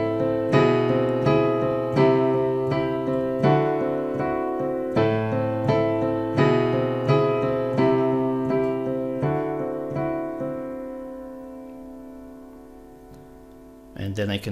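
A chord progression played on a keyboard-like instrument, with a bass line that climbs in the left hand under repeated rhythmic chords, then a long sustained final chord that fades, with a short noise at the very end.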